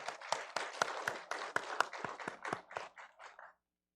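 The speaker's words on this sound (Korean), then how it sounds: "영광의 박수 올려드리겠습니다." Congregation applause in a church Sunday worship service after the choir sings, a rhythmic burst of distinct hand claps in a steady beat that thins and stops after about three and a half seconds, leaving silence.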